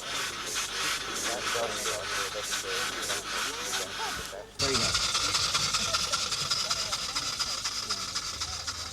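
A paddle steamer's steam engine gives a steady, loud hiss of escaping steam; a rhythmic mechanical pulsing gives way to a stronger, continuous roar of steam.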